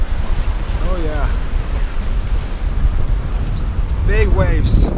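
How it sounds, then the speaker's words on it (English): Loud, continuous rush of big North Sea waves in winter and wind buffeting the microphone aboard a sailboat, with voices calling out briefly over the surging water. "Big waves. The boat is just sliding along."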